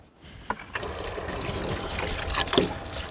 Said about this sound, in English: I'll get your water, Gus.